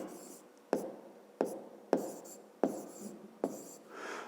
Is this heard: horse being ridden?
no